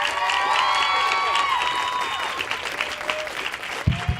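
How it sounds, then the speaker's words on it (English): A crowd at an Apple Store event cheers and applauds loudly for Grace Helbig, Mamrie Hart and Hannah Hart, with whoops and shrill calls over dense clapping that thins out toward the end, where a few handling thumps sound. "Big round of applause."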